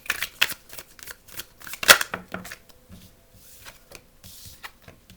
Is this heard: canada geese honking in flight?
no